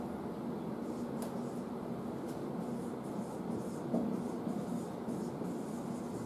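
A teacher writes notes during an English lesson, giving faint, continuous scratching strokes against a quiet room hum.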